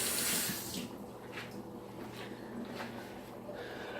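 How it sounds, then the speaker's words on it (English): Kitchen tap running into a sink while hands are rinsed during dinner cooking, a close, steady splashing rush of water that eases slightly after a louder start and carries on alone. "I'm gonna rinse my hands from touching the cheese."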